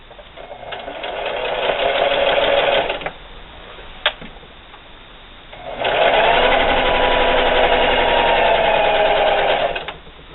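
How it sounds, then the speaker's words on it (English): A sewing machine stitching a reusable sandwich wrap about an eighth of an inch from the plastic, running in two steady whirring bursts of a few seconds each with a short pause and a single click between them. "we're going to sew about 1/8 of an inch away from the plastic all the way around"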